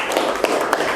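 Classroom applause from a group of students, a steady dense patter of many hands clapping at moderate volume throughout, with a few sharper individual claps standing out.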